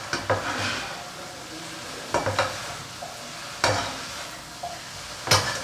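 Maggi noodles with chicken and vegetables fry and are stirred over a low flame, a steady close sizzle broken by several clattering scrapes of a spoon against the pan, with no talking.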